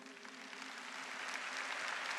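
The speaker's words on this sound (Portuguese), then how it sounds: "Vamos aplaudir Jesus?" Congregation in a church applauding together, a steady wash of clapping that holds at moderate level and swells slightly toward the end.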